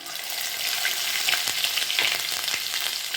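Mustard seeds and ginger frying in hot oil give a steady, loud sizzle, with a few sharper pops and crackles scattered across it.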